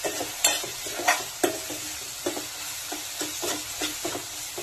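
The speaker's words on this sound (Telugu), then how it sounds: "ఇప్పుడు మనం ఇందులో గ్రైండ్ చేసుకున్నటువంటి ఈ పౌడర్ని యాడ్ చేసుకుందాం. దీన్ని మంచిగా మిక్స్ చేసుకుందాం." Ground pepper powder being stirred into South Indian pepper rasam in a pan. A spoon scrapes and stirs in a steady rhythm of strokes over a soft background sizzle.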